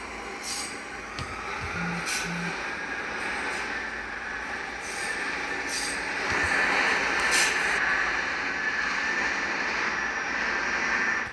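An R46 subway train in the Roblox game Transit City 3 rumbles steadily nearby with a rising metallic squeal from the wheels, plus a few brief beeps.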